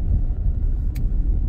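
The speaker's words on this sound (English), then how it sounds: "Now I speed up to 30, second gear" A car on a German driving test accelerates in second gear toward 30, heard from inside as a steady low engine and road rumble, loud and continuous with no talk.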